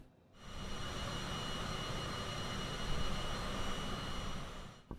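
A Bombardier Global 6000 business jet in Microsoft Flight Simulator hums with a steady, broad engine and airflow roar during a gentle descent, constant and moderately loud for several seconds before cutting off.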